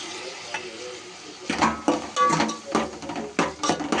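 Onions and chopped ripe tomatoes sauté in a pan for a potato and dried anchovy curry, with a quiet sizzle under a run of sharp stirring scrapes and clicks from the spoon, close up and with no talk.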